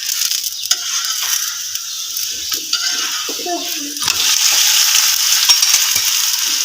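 A maize and fenugreek roti cooks on a hot griddle after being flipped, giving a soft, steady sizzle with scattered light scraping and tapping sounds. The sizzle grows a little louder toward the end.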